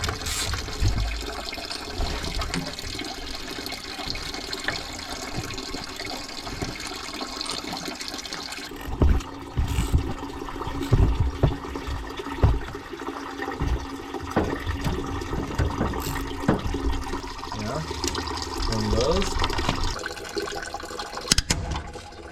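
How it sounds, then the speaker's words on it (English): Antifreeze draining from the engine of a 2003 Ford F250 7.3 diesel during exhaust manifold work, a continuous splashing, trickling pour of liquid close by that grows busier with irregular drips partway through. "now I have antifreeze coming down"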